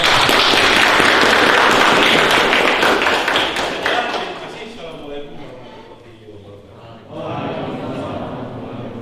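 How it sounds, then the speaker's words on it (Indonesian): A school audience at a student council candidate debate claps in a loud burst that fades over about five seconds, then quiet murmuring and a voice speaking over a room hum follow. "Oke, tepuk tangan untuk para"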